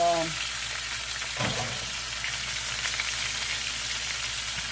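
Green peppers, multicolored peppers and frozen carrots frying in a pan, a steady broadband sizzle running throughout, with a brief clatter near the start as the vegetables go in.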